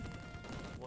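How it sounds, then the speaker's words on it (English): Gunfire rattles in Shinobi III: Return of the Ninja Master on the Sega Mega Drive, a dense, noisy burst of rapid shots blended with busy game music and effects, lasting under a second. "Gunfire now."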